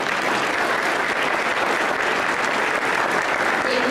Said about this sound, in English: Give those ladies a round of applause.